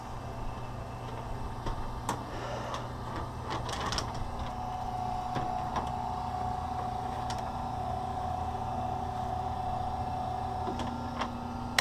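A motorized wire stripper machine stripping conduit wire runs steadily with a mechanical hum and a sustained whine, broken by scattered ticks and clicks, with no talking.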